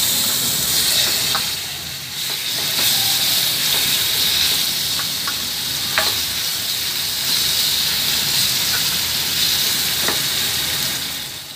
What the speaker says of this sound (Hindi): हमारा ऑयल गरम हो चुका है, इसमें हम चिकन के क्यूब्स डाल देंगे।